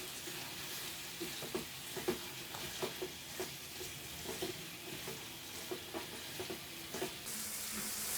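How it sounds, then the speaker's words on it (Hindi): Chicken for korma fries on high heat in a pot, a constant sizzle broken by regular clinking spoon strokes as it is stirred, close by and without speech. "अब तेज आंच पर हम 10 मिनट चिकन को फ्राई करेंगे।"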